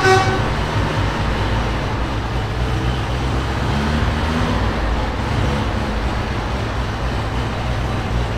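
A loud, steady engine rumble runs throughout, deep and constant, with traffic noise around it and a brief horn-like tone near the start.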